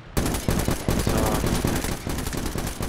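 Rapid automatic gunfire in Medal of Honor: Warfighter, aimed at an enemy helicopter, rattles in loud sustained bursts for nearly three seconds after a sudden start, with no voices over it.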